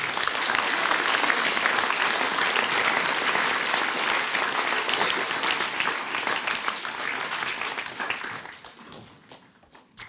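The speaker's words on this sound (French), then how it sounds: "Je voudrais qu'on applaudisse ces athlètes, Sam Avezou, Krilan Lebihan et David Sombé." A large audience applauds athletes during a mayor's New Year address in Palaiseau, steady dense clapping sustained for about eight seconds before thinning out and fading near the end.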